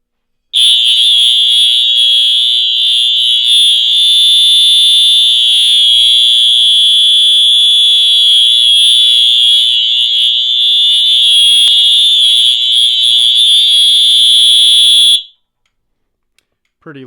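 A fire alarm set off by a Johnson Controls pull station blares a loud, steady high-pitched tone for about fifteen seconds, then cuts off abruptly into silence.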